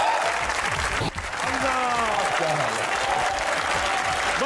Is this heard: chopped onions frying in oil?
no